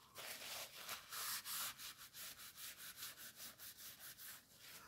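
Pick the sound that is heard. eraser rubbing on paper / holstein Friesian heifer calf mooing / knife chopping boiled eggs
eraser rubbing on paper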